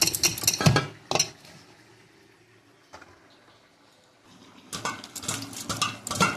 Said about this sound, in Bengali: এখানে ভাত টিফিন বাটিতে ভরে নেব।